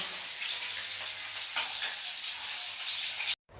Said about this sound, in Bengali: এই যে মাছ ভাজা হচ্ছে